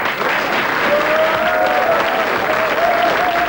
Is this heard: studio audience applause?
yes